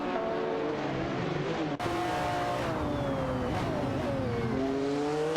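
Jaguar XJ220S and McLaren F1 LM race cars in a video game roar with steady, loud engine drone, shifting pitch as they rev and accelerate, with a brief gear-change dip and tyre noise throughout.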